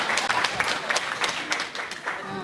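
Guests at a friend's wedding applaud a heartfelt love song, a busy stream of individual claps from a smallish crowd that stays fairly loud before easing slightly near the end.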